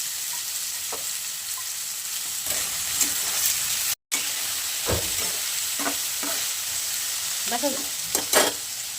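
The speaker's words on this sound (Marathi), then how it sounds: "बटाटा तळायला टाकून आता बारीक कापून घ्यायचा आणि तळून घ्यायचा मस्त बटाटा" Finely chopped potatoes fry in hot oil for sabudana khichdi, a steady sizzle punctuated by intermittent stirring scrapes and clinks of a utensil in the pan.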